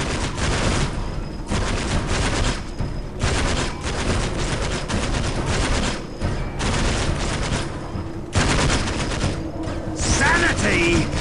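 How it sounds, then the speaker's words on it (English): Sustained gunfire from the strategy game Dawn of War: Winter Assault during an Ork campaign battle, loud continuous bursts of automatic fire broken by short pauses, with a voice briefly heard near the end. "And open fire."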